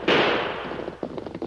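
Gunfire aimed over people's heads in an old Western radio drama: one sharp, loud bang rings out and fades, followed by a faint, crackly rattle of smaller pops.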